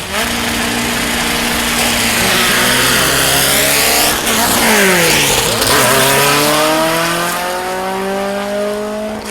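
VW Beetle and sand rail drag racing engines at the VW Nationals at Mason Dixon Dragway, loud high-revving engines climbing and shifting through gears in sweeping pitch rises, sustained and close throughout.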